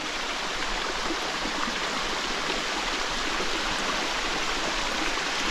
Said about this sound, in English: No, New Zealand running water.